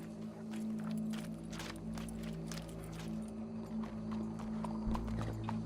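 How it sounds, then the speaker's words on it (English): Horse hooves clip-clop at a steady walking pace in the Red Dead Redemption 2 video game, moderately close over a constant low hum and background game ambience. "Go brush that horse, officer."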